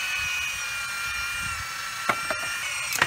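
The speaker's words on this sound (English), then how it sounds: "Drilling an output hole." A Forstner bit drills an output hole in a homemade laminar flow fountain, a steady whirring grind of the drill with a few sharp clicks and cracks toward the end.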